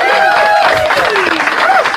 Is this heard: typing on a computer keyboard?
no